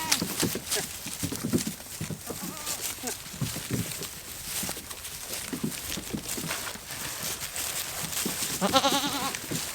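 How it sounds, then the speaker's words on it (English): Goats bleat now and then close by amid shuffling and hoof clatter, with someone talking intermittently over the animals. "I'll try to get some filming on these little goats"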